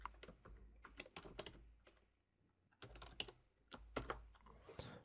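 A computer keyboard tapped in quick uneven bursts while a password is entered, close and fairly quiet, with a short pause midway before the keystrokes resume.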